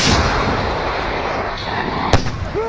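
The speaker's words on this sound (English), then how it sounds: "Operator of anti-tank grenade launcher takes aim." Anti-tank grenade launcher fire aimed at an enemy armored vehicle in combat: a loud, roaring blast fills the clip and is followed by a sharp impact crack near the end.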